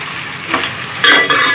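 Chopped onions frying to light brown in a pan for tinda gosht, a steady close sizzle with stirring scrapes that swell louder partway through, no talking.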